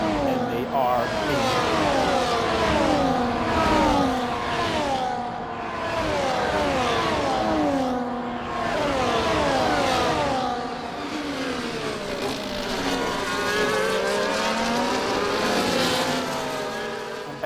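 F1 cars race through the Mexico round of a racing video game, their high engines repeatedly rising and falling in pitch as they pass near and far, while commentators talk over them.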